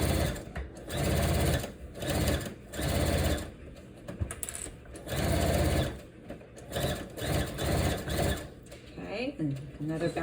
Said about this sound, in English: I'm going to remove my first clip, and then I'm just going to start sewing this straight down.